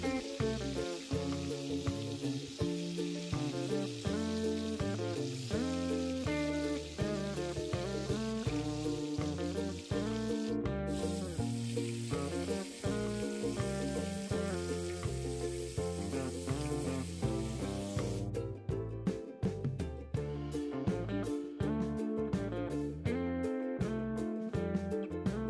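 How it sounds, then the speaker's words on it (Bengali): Salted hilsa fish fries in a pan with a continuous low sizzle and crackle, largely buried under loud background music throughout. "এবার আমরা দিয়ে দিচ্ছি নোনা ইলিশ, আর এগুলোকে আমরা ভেজে নেব।"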